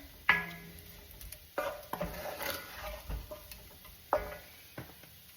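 Ingredients being stirred in a slow cooker: a handful of sharp spoon knocks and scrapes against the pot at irregular intervals, close up, with no talking.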